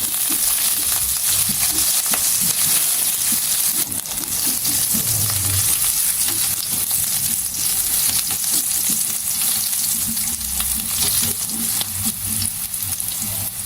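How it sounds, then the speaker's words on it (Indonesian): Shallots sizzle and fry steadily in hot oil in a pan, a continuous close crackling hiss with occasional stirring scrapes, no talking. "tumiskan bawang merah sampai matang tercium bau harum bawang goreng"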